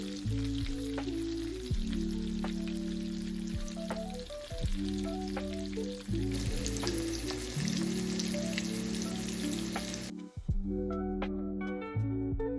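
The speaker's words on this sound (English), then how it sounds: "I like my salmon well done, so I'll let it sit and fry for another about 2 minutes" Salmon fries in a skillet with a steady, close sizzle that runs throughout, and music plays underneath. The sizzle drops out briefly near the end.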